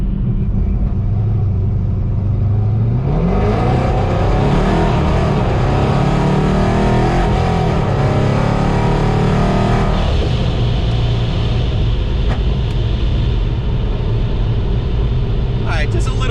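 A modified Dodge Hellcat running E85 with a pulley, injectors and tune pulls hard, its engine roar climbing loud and close for several seconds before settling into a steady, heavy drone.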